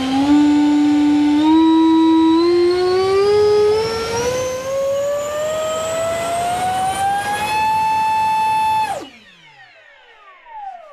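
An FMS Futura 64mm EDF jet's electric ducted fan, fitted with a lower-kV motor and running on 6S, spools up with a loud rising whine that climbs steadily for about nine seconds before cutting off and winding down, no voices present.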